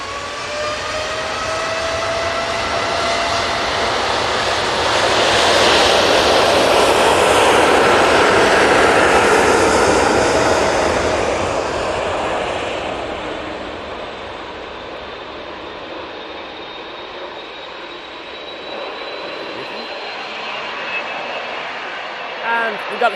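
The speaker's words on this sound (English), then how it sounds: "Qatar 787-9 Dreamliner now on the roll." A Qatar Airways Boeing 787-9 Dreamliner takes off from Manchester Airport, its jet roar building to a loud broad rush with high whining tones, then slowly fading into the distance as a thin descending whine trails away.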